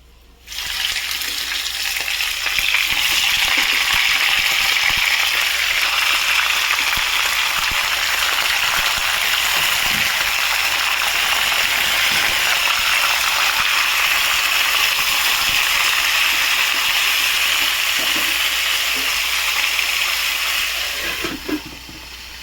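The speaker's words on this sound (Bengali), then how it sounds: "এবার আমি এখানে ধুয়ে রাখা মাটন দিয়ে দেবো।" Washed mutton added to a hot pot of whole spices frying in oil for a mutton curry, a loud, sustained sizzle that holds steady for about twenty seconds before easing off, close and continuous.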